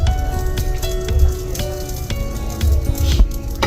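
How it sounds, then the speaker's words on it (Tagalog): Margarine sizzles in a pan as sautéing begins for a banak fish sisig, a steady close hiss sprinkled with small pops and crackles. "gigisa na tayo"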